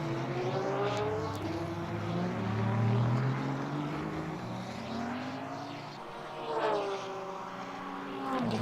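GT3 race cars, an Aston Martin and a Ferrari, drone past in a racing video game at the Red Bull Ring, with steady engine tones rising and falling in pitch as they accelerate and shift.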